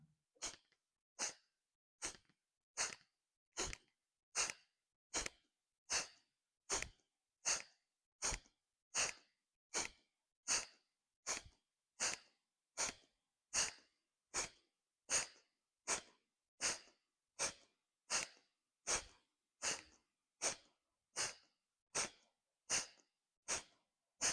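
Forceful kapalbhati breath exercise through one nostril with the left nostril closed: a long steady series of sharp, evenly spaced nasal exhalation bursts, about one every second, close and alone.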